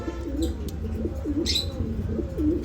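Soft, repeated cooing of fancy pigeons close by, low warbling calls rising and falling every half second or so, with a faint chirp in between.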